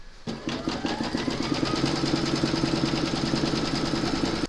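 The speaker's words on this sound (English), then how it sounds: "Then you're going to stitch colour number 1" An embroidery machine stitches in a fast, even mechanical rhythm, a steady close-up whirring hum with regular needle pulses that starts abruptly and runs without pause.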